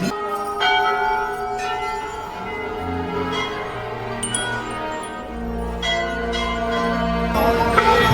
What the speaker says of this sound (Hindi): सब जगह घंटियाँ घंटियाँ,